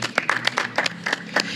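Audience applause for two guests of a rock band at an interview event, a short burst of scattered claps, fairly close and moderately loud.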